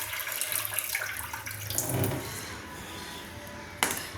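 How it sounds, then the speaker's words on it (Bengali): Water poured off Badshabhog rice being washed by hand in a bowl, a continuous splashing rush of moderate loudness with a brief knock near the end. "এইভাবে জল দিয়ে চটকে আমি বাদশাভোগ চালটাকে ধুয়ে নিচ্ছি। দেখুন, জলটা ফেলে দিচ্ছি।"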